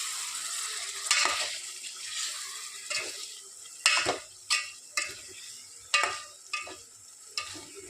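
Chicken curry with gravy stirred in a pan: a steady soft sizzle of frying runs underneath while a spoon scrapes and taps against the pan in irregular strokes, close and fairly quiet, with no talking.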